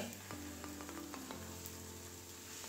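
Vegetable paratha with egg frying in a pan on low heat, a quiet, steady sizzle with a few faint clicks and a low hum underneath, no talking.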